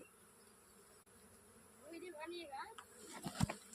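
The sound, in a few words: swarm of honey bees buzzing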